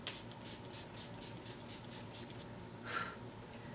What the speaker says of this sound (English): I'm going to spray my face down. I am using the NYX Matte Finish Setting Spray.